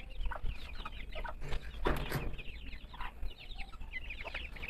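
Newly hatched black Silkie chicks peep in a backyard, a steady chorus of high chirps close by with some clucking, no talk.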